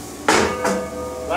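Cooked food drops from a pan onto a lamb shank in two sharp, close clatters and thuds, with a faint scraping tail and no talking.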